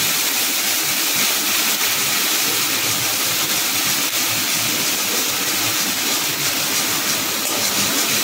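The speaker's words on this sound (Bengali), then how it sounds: "এবার তেলটা গরম হয়ে গেছে, আদা কাঁচা লঙ্কা বাটাটা এর মধ্যে আমি দিয়ে দিলাম। এটাকে একটু ভেজে নেব।" Ginger and green chilli paste frying in hot mustard oil in a wok, a loud, steady sizzling hiss that runs unbroken for the whole stretch with no talk.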